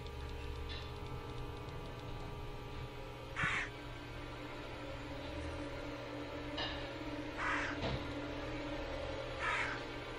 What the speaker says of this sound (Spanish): ¿Los cuervos siguen aquí? Me están siguiendo.